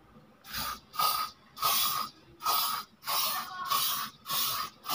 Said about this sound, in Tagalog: I-spray na natin ito, sigurado to kikintab na.